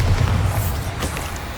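Bombarda explosion spell in Hogwarts Legacy, a short heavy boom with a rumbling low tail, loud and close, lasting only a moment.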